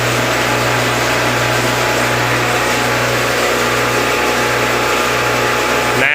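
The vacuum system of a dairy milking parlour, with vacuum tanks beside a wash machine, runs as a loud, constant mechanical drone with a steady low hum, unchanging throughout.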